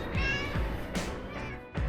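A cat meows several times outdoors in a quiet winter beach town in Marmaris, Turkey, short plaintive calls close by with brief gaps between them.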